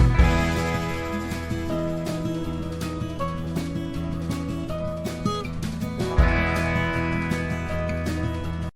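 Full mono music mix with an EQ'd piano holding steady chords over a dense band backing and repeated percussive hits, playing continuously with a strong downbeat accent near the end and no voices.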